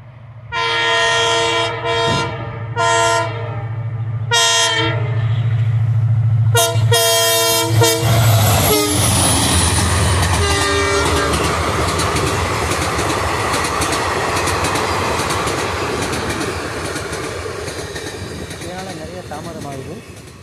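An Indian Railways train on a 110 km/h trial run between Tenkasi and Virudhunagar sounds several long, loud blasts of its horn, then thunders past close by with a sustained roar of wheels and rattling wagons; faint voices appear briefly.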